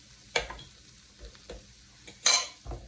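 A utensil scrapes and pushes a mixture of frozen hash browns and egg across a hot frying pan, with a faint sizzle beneath a few sharp scraping strokes and soft clinks of metal on the pan.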